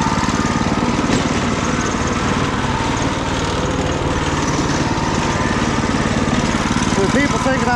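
Predator 212 engine on a riding mower running at a steady, loud rumble close by, continuous throughout with a faint voice briefly underneath.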